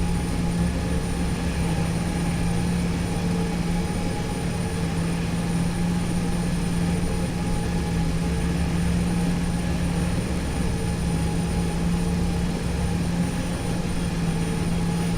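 A Quest Kodiak single-engine turboprop in the X-Plane 11 flight simulator spools up for takeoff, giving a steady, loud engine drone with a constant hum and unchanging level throughout.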